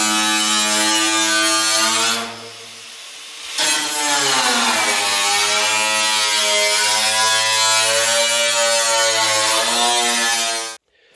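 Small power tool cutting along a marked line on a car body panel, a steady high whining buzz with a short pause partway through, close and loud.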